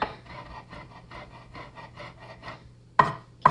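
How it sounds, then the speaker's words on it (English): A kitchen knife rhythmically mincing herbs on a cutting board, a quick series of soft chopping taps close by, followed by two sharper, louder knocks at the end. "mince our herbs up just a little bit."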